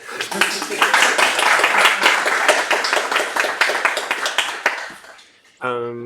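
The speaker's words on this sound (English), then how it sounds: "you can clap if you like" A small audience at a game development presentation claps, with distinct, uneven hand claps close by for about five seconds before it tapers off and a voice starts speaking.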